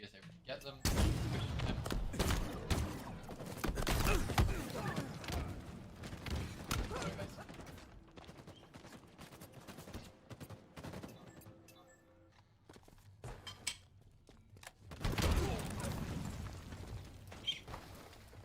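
Rocket and weapon fire in a competitive team shooter playoff match: rapid bursts of explosive shots and impacts in clusters, with a caster talking over the action.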